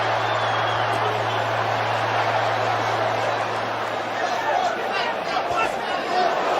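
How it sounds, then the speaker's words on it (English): Crowd noise from spectators at a Canelo Álvarez versus Billy Joe Saunders professional boxing match, a steady loud roar of arena hubbub and reaction running through the whole stretch with no clear break. "You hear the crowd's reaction."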